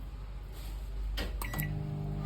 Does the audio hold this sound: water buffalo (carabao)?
no